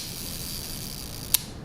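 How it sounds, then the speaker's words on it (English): A 1958 Voigtlander Bessamatic SLR camera shutter release and mirror fire as a single sharp mechanical click, close and brief, near the end of a quiet stretch of steady room hiss. "And when I press the shutter button, what will happen is,"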